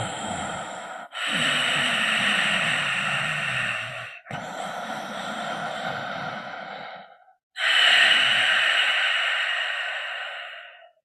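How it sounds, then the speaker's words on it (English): A person breathes slowly through a constricted throat in the manner of ujjayi breathing, producing three long raspy hissing breaths with short pauses between them, close and fairly loud with no talking. "people kind of call it the Darth Vader breath, where it almost feels like you're closing off your vocal cords in the back"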